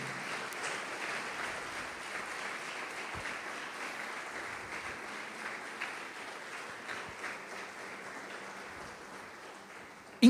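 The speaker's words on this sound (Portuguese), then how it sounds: "pode aplaudir o Senhor" A church congregation applauds during a sermon, a steady, moderately faint wash of clapping that holds evenly for about ten seconds, with no voices over it.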